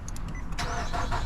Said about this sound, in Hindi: गाड़ी को स्टार्ट कर देते हैं थोड़ा सा